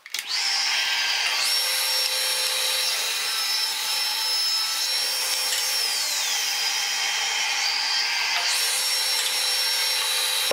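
A table saw whines loudly and steadily as it cuts through wood, the pitch dipping slightly under load before the motor keeps spinning alone.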